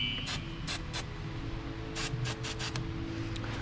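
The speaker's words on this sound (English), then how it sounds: "Spray some fluid film." Fluid Film is sprayed onto the battery terminals of a 2012 Ford Focus in several short hissing bursts, close up over a low steady hum.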